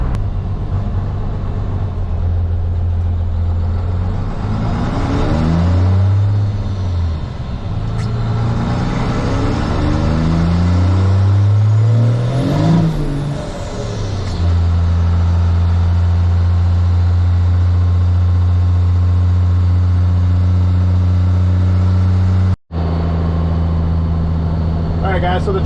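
A steady low drone from a 600 hp 12-valve Cummins diesel pickup truck hums throughout, rising and falling slightly as the truck cruises, with muffled talking over it.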